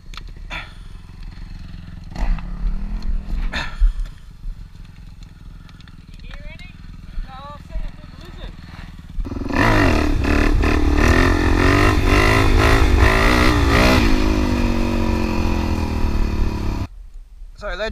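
A Suzuki DRZ400 dirt bike is ridden on a farm, its engine loud and close as it revs and runs steadily through the second half, after quieter stretches with clatter and people talking.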